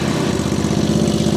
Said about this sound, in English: So there's your V-twin.